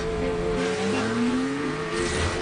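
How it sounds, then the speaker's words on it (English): A Nissan Maxima four-door sports car drives at speed, its engine note droning and rising steadily in pitch with faint tire noise, continuous and close, with no voices. "Introducing the all-new Nissan Maxima, the 4-door sports car."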